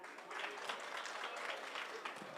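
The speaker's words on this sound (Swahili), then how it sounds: "makofi kwake" A crowd applauds steadily at a public security forum in Migori, Kenya, a dense patter of many hands clapping at moderate distance throughout.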